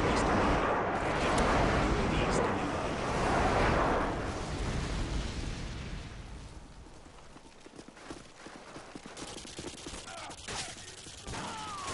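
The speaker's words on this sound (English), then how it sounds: "Friendly airstrike on the way." Airstrike blasts on the Sub Base map of a hardcore team deathmatch shooter: heavy rumbling explosions dominate the first few seconds, then fade into scattered crackling impacts and debris. No one speaks.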